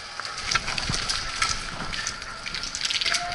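Heavy rain pouring outdoors during an airsoft game, a dense steady hiss with splashing and occasional louder drops, fairly close, with no speech over it.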